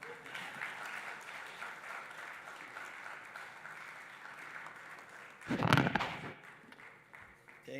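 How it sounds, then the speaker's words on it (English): Audience at a high-level expert panel event keeps up steady applause throughout, with a brief louder burst of close clapping and crowd noise swelling near the end. "Please keep clapping."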